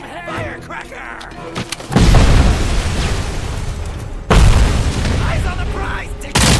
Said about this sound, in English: Throwing firecracker!